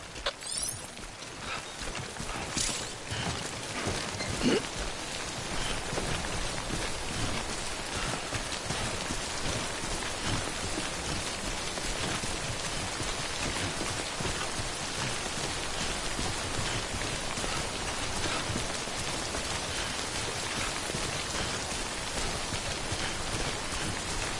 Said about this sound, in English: remember that prolonged exposure to timefall damages cargo containers. Don't stay out in the rain any longer than you have to.